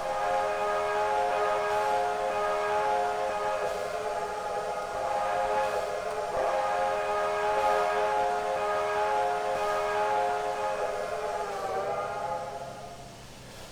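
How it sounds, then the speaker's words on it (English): A steam locomotive whistle from a MNRR T-5 4-6-0 in the Trainz 2019 simulator blows in one long, steady chord-like tone for over ten seconds, loud and close, trailing off at the end with faint crackle. "It's an older whistle file"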